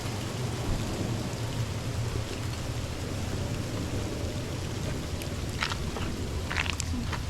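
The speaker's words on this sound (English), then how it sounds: "it is sleet coming down right now" Sleet falling outdoors, a steady dense patter of icy pellets hissing across surfaces with no break, close and even throughout, with a few faint higher ticks near the end.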